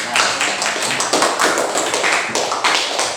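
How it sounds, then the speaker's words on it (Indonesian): Classroom applause rings out as a group of students claps steadily for a few seconds, a bright, dense patter of hands with no talking. "tepuk tangan dulu untuk Yuyun."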